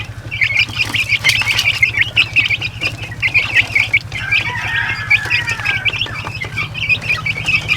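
Chickens and chicks on a poultry farm fill the air with steady high peeping and occasional clucks, close and continuous over a low, pulsing mechanical hum.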